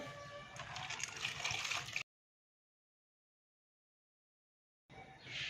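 Watery sloshing and gurgling as lentils are tipped into a pot of water, close and fairly loud, broken by a stretch of silence before the splashing resumes.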